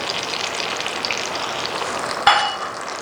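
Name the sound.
stirring sauce mixture with tomato paste and chilli garlic sauce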